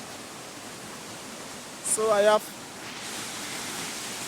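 Steady broadband roar of a waterfall close by, continuous throughout, with a brief spoken voice rising above it near the middle.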